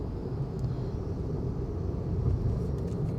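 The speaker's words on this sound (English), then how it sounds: "so much noise from the car, small car," Steady low rumble of a small sports car's cabin while driving, a constant road and engine drone with no voices.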